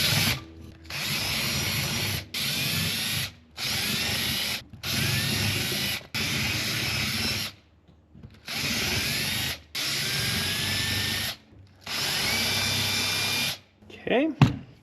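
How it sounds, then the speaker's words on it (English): Power drill boring out old rivets on a 94-year-old Ford Model A, running in repeated bursts of a couple of seconds each with short pauses between, loud and close. "Now I am going to drill out all of these rivets."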